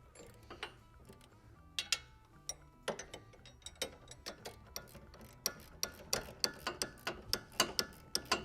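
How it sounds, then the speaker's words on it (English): A ratcheting wrench tightens a sway bar link nut during a Belltech 1.5-inch lift kit install on a 2021 Ford Bronco Sport, giving faint, close clicks that start sparse and speed up into a quick, steady ratcheting rhythm. "So we're going to grab it with the wrench, the 16."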